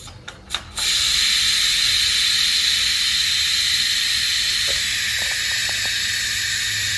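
A pressure cooker holding mutton and potato curry lets off its steam in a loud, steady hiss that starts after about a second and runs to the end, with a few faint clicks near the close.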